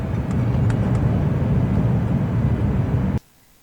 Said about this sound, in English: If your PlayStation sounds like this,